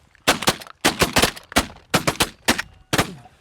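Shotguns fire at geese during a waterfowl hunt in Alberta, six sharp volleys of close, loud blasts, each a quick cluster of overlapping shots with short gaps of quiet between them.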